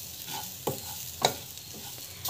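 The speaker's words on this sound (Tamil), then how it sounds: "ரவை வந்து நல்லா வதங்கணும்." Semolina being stirred and sautéed in a pan, with a soft scraping and dry sizzle and a few sharper spoon knocks, alone without talk.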